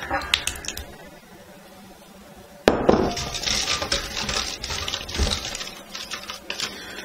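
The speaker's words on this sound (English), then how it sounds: "So you want to whisk this all together until it becomes completely smooth." Milk, sugar, vanilla and eggs are whisked in a bowl for pastry cream, giving rapid clinking and sloshing strokes that start abruptly and continue steadily, with a voice talking over them.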